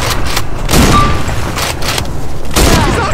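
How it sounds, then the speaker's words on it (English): Loud, heavy gunshots from a sniper rifle in a zombie survival game, several booming shots in quick succession filling the scene. "Try shooting him with the sniper."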